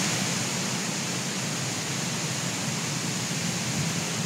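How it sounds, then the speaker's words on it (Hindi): The Tons waterfall at Sirmaur near Rewa produces a loud, steady roar of rushing water, a dense unbroken wash of noise that fills the whole stretch without a pause, with no one speaking. "मस्त बहुत तेज पानी की आवाज़ आ रही होगी आप लोग को"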